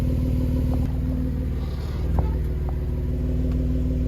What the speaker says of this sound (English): that's a heavy diesel engine in mud